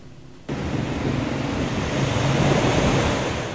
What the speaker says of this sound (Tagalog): Kulay putik at malakas ang agos ng tubig sa Amburayan River sa boundary ng Ilocos Sur at La Union